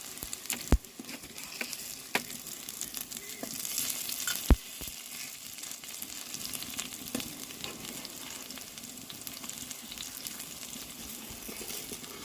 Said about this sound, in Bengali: বড়াগুলো কিন্তু সুন্দরভাবে ভেজে নিয়েছি 2 পিঠ।